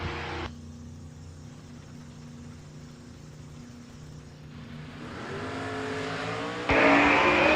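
Drag racing cars at the track, including a 1971 Mustang, engines droning low and steady before a rising, louder roar that surges sharply toward the end as they launch down the strip.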